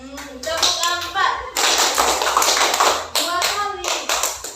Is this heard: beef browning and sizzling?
no